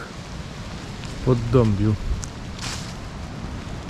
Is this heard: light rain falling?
yes